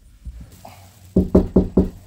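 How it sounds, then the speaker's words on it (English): Knocking on a house door: a few soft taps, then four firm, evenly spaced knocks close by, loud and sharp with no talk. "I'm going to knock on my own door."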